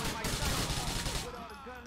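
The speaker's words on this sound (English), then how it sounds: "Where am I getting shot from?" Rapid automatic gunfire from a Grand Theft Auto IV firefight crackles in dense, fairly quiet bursts for over a second, then breaks off into faint background game noise.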